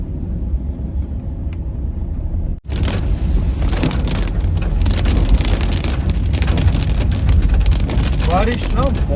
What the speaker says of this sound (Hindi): बारिश ना बहुत घनघोर हो रही है।